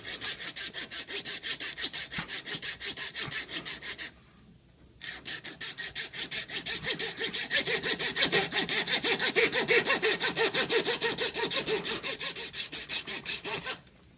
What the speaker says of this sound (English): So what I do is I just use a little coping saw.